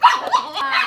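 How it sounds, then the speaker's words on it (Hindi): Puppies let out a short burst of high, yappy barking, loud and close, with a brief whimpering edge in under a second. "हमारी दो पापी देखो कैसी भौंक रही है"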